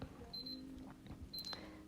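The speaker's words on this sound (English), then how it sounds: "Sorry for that beep. I have something in the oven." Two short high electronic beeps from an oven timer sound in a quiet room, one early and one near the end, each a brief steady tone over soft background noise.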